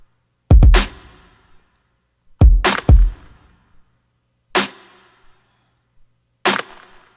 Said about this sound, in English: As far as the snare, I just layered it with the clap so you could hear it all in context.